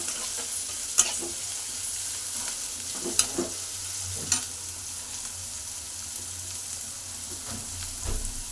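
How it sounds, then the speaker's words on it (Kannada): Two small chopped onions fry in a pan as the base for a chicken gravy: a steady soft sizzle runs throughout, broken by a few sharp clicks of a spoon stirring against the pan. "ಸ್ವಲ್ಪ ಕಲರ್ ಚೇಂಜ್ ಆಗೋವರೆಗೂ ಸ್ವಲ್ಪ ಫ್ರೈ ಮಾಡ್ಕೊಳ್ಳೋಣ"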